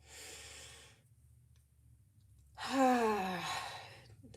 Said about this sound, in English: let's actually both take 2 deep breaths at this time